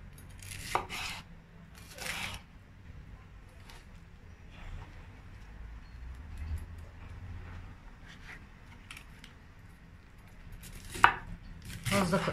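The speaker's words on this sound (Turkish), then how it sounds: "Onları da şu şekilde doğruyorum." A knife chops one red kapya pepper and three green peppers on a board in a home kitchen, a few scattered sharp cuts spaced irregularly over steady low background hum, close and moderately loud.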